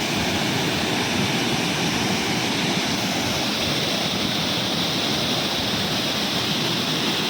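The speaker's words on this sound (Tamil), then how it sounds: "மழை பெஞ்சுட்டே இருக்குது நல்ல அருவியை பாருங்கள் மணிமுத்தாறு ஃபால்ஸுங்க அருவிங்க" A loud, unbroken roar of Manimuthar waterfall in steady rain, a dense rushing wash of water that stays constant throughout.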